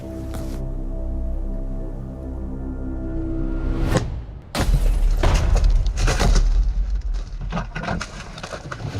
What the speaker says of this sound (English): The man strikes, smashing the window and making off with our laptop and his phone.